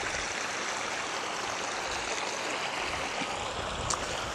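Fresh water runs steadily into a lake at a park, a continuous close rushing wash with no pauses or voices.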